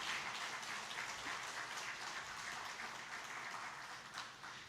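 A church congregation applauding steadily during a Sunday service, dense continuous clapping from many hands without a break.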